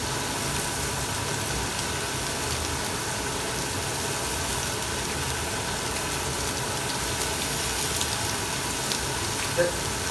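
A T-bone steak frying in a pan, a steady, dense sizzle that holds at an even level throughout with no pauses or talking.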